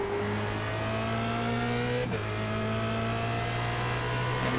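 Formula Renault race car engine in iRacing at Zandvoort, loud and steady, dropping through gears with a brief break in the drone midway and tones stepping as it downshifts.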